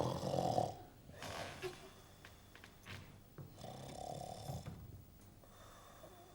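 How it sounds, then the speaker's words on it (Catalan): A sleeping man snores in slow, rasping breaths, quiet and fairly close, with a few drawn-out inhales and exhales and nothing else heard. "ja està roncant"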